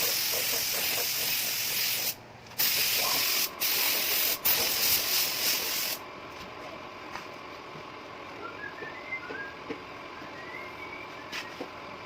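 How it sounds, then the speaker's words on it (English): Steady hissing spray of wash primer onto bare metal of a Vespa in several short bursts with brief pauses, close by, then stopping, leaving a quiet background with faint distant chirps. "Spray one layer of wash primer, metal still see-through."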